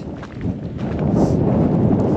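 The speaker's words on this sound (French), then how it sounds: "Il y a un vent qui n'est pas très chaud." Cold wind gusts across the microphone on an overcast day at about 350 metres altitude, a steady broadband rush that strengthens halfway through and keeps blowing without pause.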